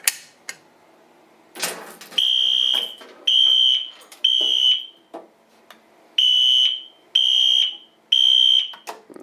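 Shrill piezo sounder on a Potter fire alarm panel, triggered by a pull station test, pulsing in six loud, even bursts of roughly half a second each, preceded by a few handling clicks and knocks.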